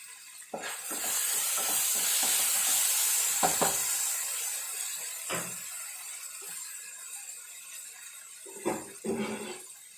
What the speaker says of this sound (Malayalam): കടുക് വറുക്കാനാണ്